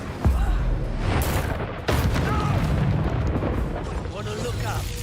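Rapid spell blasts in Hogwarts Legacy, among them the Incendio fire spell: a sharp boom at the start, another burst near the two-second mark, then a rolling rumble of impacts, loud and close, under a voice.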